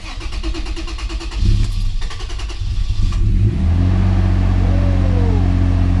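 A fourth-generation Toyota 4Runner is started cold. After a rhythmic cranking, the engine catches and revs up, then settles into a loud, steady high idle close by.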